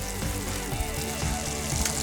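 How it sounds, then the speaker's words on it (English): A ham and manchego tortilla sizzles steadily in a very hot pan, a loud, continuous frying hiss up close with no pauses and no voices. "Nice sizzle there, you know the pan's hot enough."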